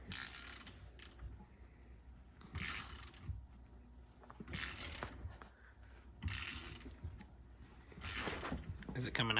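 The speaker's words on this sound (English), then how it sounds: "take out the bottom bolt with your 6mm Allen" A 6mm Allen key turns out the bottom bolt of a CRF110 front fork clamped in a vise, giving repeated ratcheting, clicking bursts in several bouts, with voices talking nearby between them.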